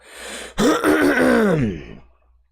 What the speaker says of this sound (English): Probably going to be clearing my throat quite a bit